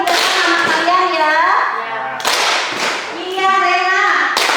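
A school class of junior high students claps in a rhythmic concentration pattern, with bursts of sharp hand claps alternating with children's voices chanting, loud and close in a classroom.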